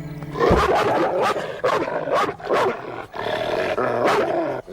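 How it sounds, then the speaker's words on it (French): A dog growls and snarls in rough, loud bursts, with deep rumbling roars rising and falling several times close by. "Oh, c'est le chien."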